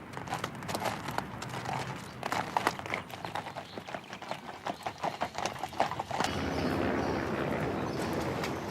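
Hooves of royal horses clip-clopping under their riders during a ceremonial outing with Queen Elizabeth II, a steady, fairly close rhythm of sharp hoof strikes, ending in a broad steady rush of noise.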